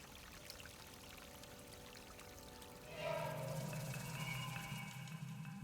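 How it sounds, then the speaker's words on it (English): Water pours into a hole in Alone in the Dark, a soft steady stream starting partway through and continuing to the end, fairly quiet with faint background ambience. "And now we can combine it and fill the hole with water to"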